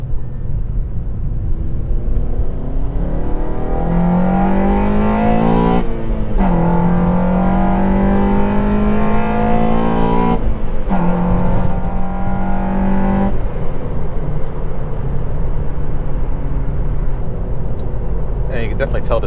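A car accelerating hard up a highway on-ramp on a morning commute, its engine note rising in loud sustained pulls through several gears under a constant road and cabin rumble, with people talking over it.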